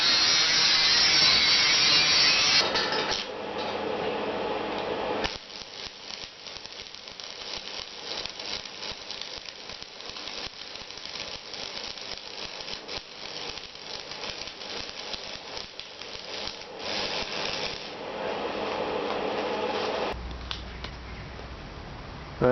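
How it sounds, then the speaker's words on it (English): Grinding the freshly cut edges of a steel drum for a homemade smoker, a harsh continuous abrasive whine with scraping rattle that surges louder at the start and again near the end. "now I'm gonna grind these edges to be smooth"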